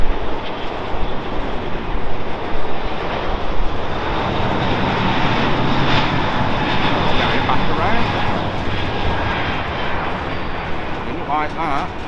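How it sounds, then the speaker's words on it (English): Emirates Airbus A380 jet going around after an aborted landing at Heathrow, a loud, steady broadband engine roar sustained throughout, with a voice audible over it. "That's the Emirates A380 coming in from Dubai."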